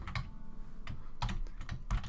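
A few quick clicks from typing on a computer keyboard, close and fairly soft, in short irregular taps with gaps between them.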